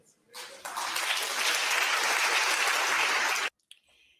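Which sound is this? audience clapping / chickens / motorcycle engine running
audience clapping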